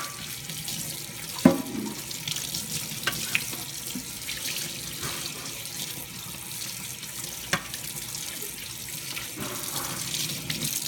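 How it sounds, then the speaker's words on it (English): Tap water runs steadily into a sink while a surface is rinsed after scrubbing off tacky oil, a close, continuous wash with occasional splashes and clunks. "It's time to rinse"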